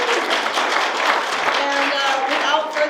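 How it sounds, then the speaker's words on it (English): An evening audience at an Appalachian spoken-word event claps for the speakers, a dense, moderately loud wash of applause running throughout with voices mixed in. "If you could give one big round of applause for the speakers and coming out tonight."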